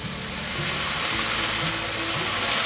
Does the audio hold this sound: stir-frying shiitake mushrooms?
yes